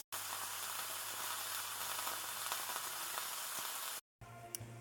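Beef tossed into hot olive oil in a skillet sizzles loudly and steadily for about four seconds with a broad crackling hiss, cuts off briefly, then resumes more quietly with faint clinks, for roast garlic black bean chili.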